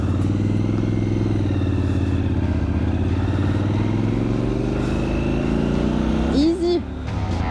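Triumph Scrambler 1200 XC motorcycle making a hill start, its engine running steadily and pulling under load up close, with a brief clatter near the end.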